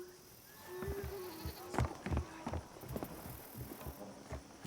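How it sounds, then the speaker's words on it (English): A goat bleats in the Siamese rice-paddy area of the Indiana Jones and the Great Circle video game, its wavering cry set against hoof-like clops and scattered livestock noises. "Oop, goat."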